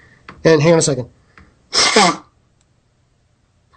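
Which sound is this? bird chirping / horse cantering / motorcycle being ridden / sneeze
sneeze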